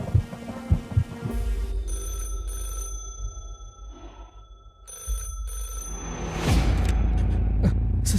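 A telephone rings with a sustained electronic ringing tone that cuts in and out in bursts over a low rumbling background, fairly loud and close, with no talking.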